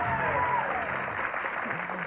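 Studio audience applause on a 1993 television game show, a steady, dense clapping wash heard alone for a couple of seconds.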